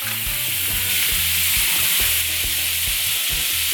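Two sticks of butter melt in a pot, producing a loud, even sizzle and crackle throughout, with soft low knocks from the pot underneath.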